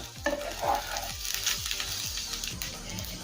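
Rice is fried for pulao in a pan over a high gas flame, a close steady sizzle broken by a regular series of scraping strokes as a spoon turns the grains.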